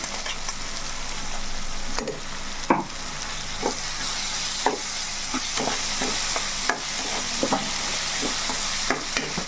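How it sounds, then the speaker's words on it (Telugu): Masala paste stirred into softened tomatoes in a hot pan, with a constant bed of frying noise and repeated scraping spoon strokes every second or so, close up and with no voices. "కొంచెం మసాలా పేస్ట్ కూడా వేసుకుందాం."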